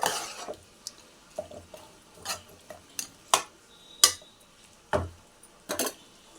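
Mutton curry with masala being stirred in a pan with a cucumber, a spoon scraping and knocking against the metal about ten times at an irregular pace, close and clear over a faint sizzle.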